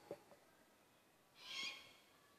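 A young owl gives a faint, hoarse, breathy screech lasting about half a second, heard alone in a quiet outdoor space after a couple of soft thuds.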